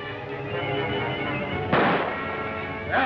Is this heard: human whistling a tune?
no